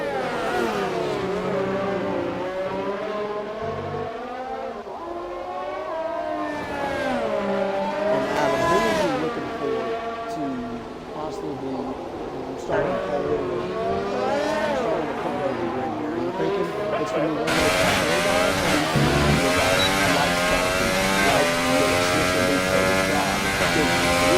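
F1 race cars in a video game roar down the final straight of the Canada circuit, high-pitched engines rising and falling through gear changes, loud and continuous under a commentator talking throughout.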